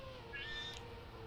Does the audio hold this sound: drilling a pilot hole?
no